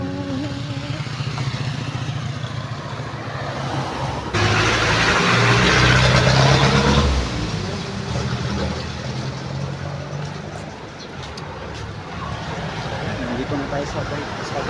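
A motorcycle engine idles with a low, steady throb that rises louder for a few seconds in the middle before settling back, while people talk nearby over it.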